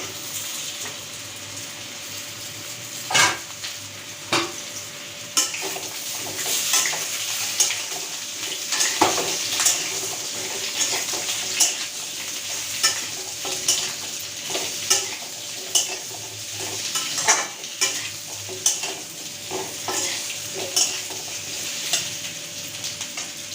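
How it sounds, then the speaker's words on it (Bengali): Pumpkin, potato and papaya pieces sizzle steadily in hot oil in a pan, with repeated scraping stirs and sharp clinks of a utensil against the pan, close and loud throughout, with no talk. "এর মধ্যে আমি কুমড়ো, আলু আর পেঁপে দিয়েছি, সেটা এবার আমি ছেড়ে দেবো তেলে"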